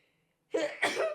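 A single sharp sneeze bursts out close by, breaking in two quick explosive pulses after near silence.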